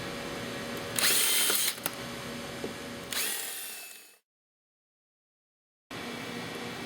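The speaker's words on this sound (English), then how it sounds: "We're going to drill out these 5 rivets." A power drill with a 3/16 bit bores out rivets on a steering post, two short high-pitched whining bursts with mechanical rattling in between, close by, followed by a sudden drop to silence before steady noise resumes.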